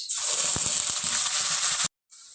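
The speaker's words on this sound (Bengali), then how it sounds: "জিরে ফোড়ন এবারে দিয়ে দেবো পেঁয়াজ" Onion dropped into hot oil tempered with cumin seeds and dried red chili, giving a loud, bright sizzle with a few crackling pops, which cuts off abruptly and then resumes faintly.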